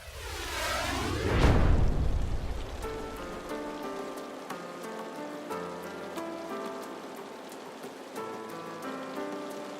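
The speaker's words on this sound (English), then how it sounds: "Despite rain soaking the showgrounds and a forecast that doesn't look promising" Rain falls on the soaked grounds of the Chippewa Valley air show, a broad steady patter on surfaces that starts with a loud rushing burst, then settles into a continuous moderate wash with faint tonal hum behind it.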